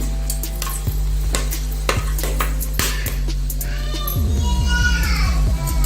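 Whole black peppercorns, cloves and cinnamon frying in hot ghee in a pan for veg biryani, with steady stirring scrapes and clinks, then a louder burst of crackling sizzle near the end.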